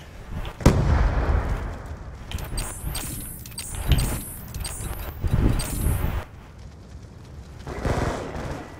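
Grenade explosions in a video game: several heavy, booming blasts spaced a few seconds apart, with sharp high crackles between them and lighter game noise underneath.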